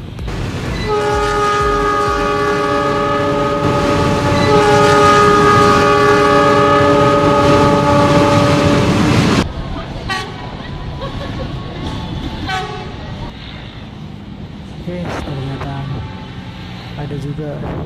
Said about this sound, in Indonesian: Nah, kereta yang udah kelihatan